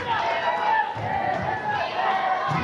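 A big crowd fills a gym at a high school wrestling match, a steady broad roar of voices and chatter, with a voice talking over it.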